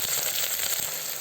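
Sliced onions and green chillies frying in hot oil for chicken biryani, a steady close sizzle and crackle with no talk.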